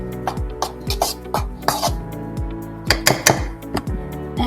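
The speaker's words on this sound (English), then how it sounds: "Then you want to gently stir that together." A utensil clinks and taps rapidly against a small bowl while flour, baking soda and salt are stirred together, close, bright repeated clatters in an uneven rhythm.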